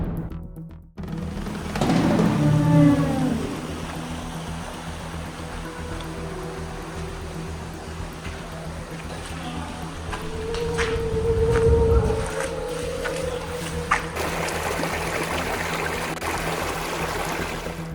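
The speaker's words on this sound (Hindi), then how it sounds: "पानी की आवाज़ सुनकर लग रहा था जैसे गुफा खुद कुछ कह रही हो" Water flowing through the underground river cave Gucchu Paani near Dehradun: a steady rushing wash that echoes off the rock, with brief gurgles and a louder surge partway through.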